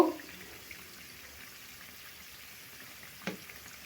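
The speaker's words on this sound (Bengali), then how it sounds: "মিষ্টিগুলো একটু লাল লাল করে ভেজে নেব" Langcha sweets made from milk powder dough fry in hot oil over a high gas flame, giving a steady, fairly quiet sizzle with one brief stir or clink near the end.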